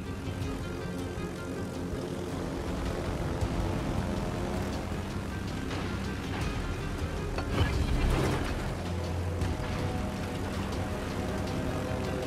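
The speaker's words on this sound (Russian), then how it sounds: "Истребитель взлет произвел." Propeller fighter aircraft engine in the World of Warships video game, a steady droning buzz for the whole stretch with a slight swell near the middle, as the fighter takes off.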